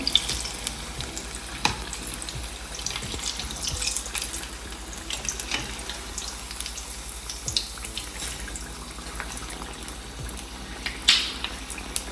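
Potato vadas sizzle and crackle steadily while deep frying in hot oil over medium heat, a constant bubbling hiss with occasional sharper pops and light utensil clinks.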